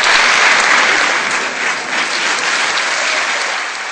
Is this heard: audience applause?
yes